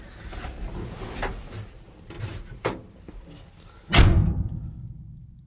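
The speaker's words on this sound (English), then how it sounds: "how the cab rings when you're driving, when you shut your door" A few soft knocks and rattles, then the heavy metallic door of a 1966 Dodge D100 pickup slams with a hollow ringing in the cab that fades out afterwards, heard from up close.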